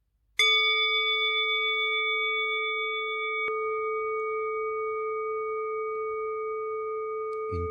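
A single bell is struck once to close a guided relaxation session, ringing out loud and clear and sustaining a long, slowly fading tone with no talk over it.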